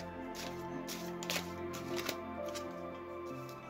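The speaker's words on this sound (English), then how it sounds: "Another little shuffle" A deck of oracle cards being shuffled by hand during a reading, quick soft riffling and flicking bursts with faint music underneath, quiet and close, no talk.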